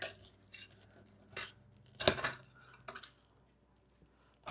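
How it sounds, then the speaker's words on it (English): A spoon scrapes and clinks against a baking dish while scooping out freshly baked raspberry cobbler with crispy edges, a few soft scrapes and one brighter clatter over quiet kitchen background. "Okay, we're just going to scoop it out."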